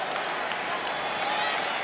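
A 55,000-strong crowd at a 1991 World Series baseball game between the Braves and Twins applauds steadily in a broad, continuous wash of clapping and murmur, with no distinct voice above it.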